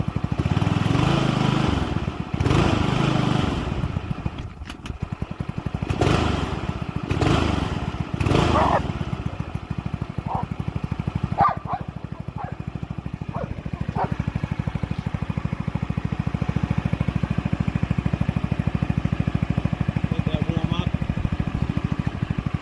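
A $200 Bunnings lawn mower's petrol motor runs steadily and loudly throughout, warming up with a constant engine drone after a few sharp bursts near the start.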